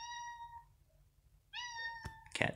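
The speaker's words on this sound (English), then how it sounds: "Cat's here." A cat gives two clear, close meows about a second apart in a quiet room, followed by a couple of soft thumps.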